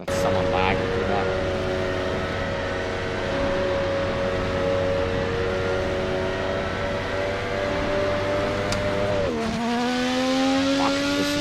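Race car engines in the Project Motor Racing video game, including an old Mazda RX-7, hold a sustained high whine before a sharp downshift and renewed acceleration, with voices talking over the engine noise.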